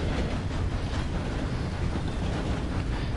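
Steady rumbling roar of a moving train in the video game Red Dead, a continuous low-heavy rolling noise with no breaks and no voices.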